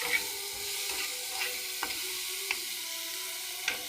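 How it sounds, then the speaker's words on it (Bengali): Eggplant curry cooking in oil, with a steady sizzle and a spoon scraping and stirring in regular strokes, each stroke a sharp click against the pan, close and clear with no talk. "আমি বেগুনের তরকারি রান্না করছি।"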